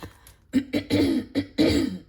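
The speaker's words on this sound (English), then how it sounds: "Let me clear my throat." Someone clears their throat in a few short, rough, voiced bursts, close up with brief pauses between them.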